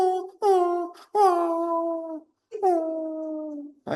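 A human voice imitates a dog yelping and howling in pain after being hit, three long wavering cries with short breaks, close and fairly loud.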